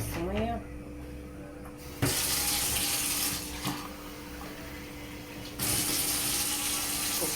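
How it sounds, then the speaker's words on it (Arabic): A cup and a half of water runs into a pot for basbousa syrup, a steady close splashing pour that stops briefly and resumes, with someone talking over it in a home kitchen. "هنحط كوباية ونص مية،"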